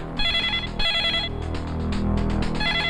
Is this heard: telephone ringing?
yes